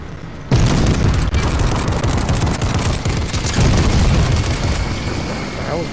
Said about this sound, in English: Somebody's shooting behind me.